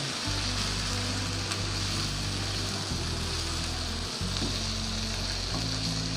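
Vegetables for a restaurant-style mixed sabzi fry in a pan with a steady, close hiss, no voices over it.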